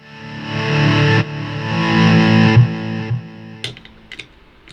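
Electric guitar volume swells through a Bogner amp with distortion and long delay: two sustained, fading-in distorted chords, then short picked notes trailing off in delay repeats, loud and close with no talk.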